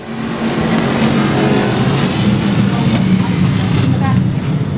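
Race cars accelerate in a pack at Cotton Bowl Speedway, a steady, loud engine roar sustained throughout with the drone of many motors blending together, with a voice talking faintly beneath.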